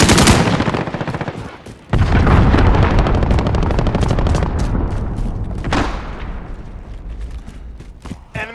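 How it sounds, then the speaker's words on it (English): Cruise missile strikes in Call of Duty Modern Warfare, on the Arklov Peak map: heavy, loud booms hit hard and roll on amid continuous rattling gunfire, with a second sharp blast a few seconds later before the din slowly fades. "Allied cruise missile launched."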